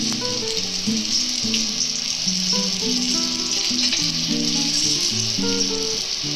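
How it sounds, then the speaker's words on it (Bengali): Stingray fish pieces frying lightly in hot oil for a curry, giving a steady, dense sizzle throughout with low background hum and no talking. "খুব বেশি কড়া করে ভাজার দরকার নেই হালকা করে ভাজলেই হবে"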